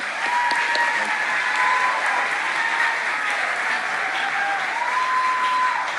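Audience applause at a Tulsa mayoral debate held at Cain's, a steady, full round of clapping from a crowd that carries through the whole stretch with faint background voices.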